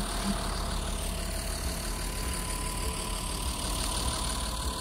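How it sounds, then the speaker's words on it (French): An old Renault farm tractor idles steadily in early December, before ploughing with a moldboard plough. Its low engine chug stays constant and close for the whole stretch, with no voices over it. "je suis équipé du tracteur, du bon vieux Renault et d'une charrue"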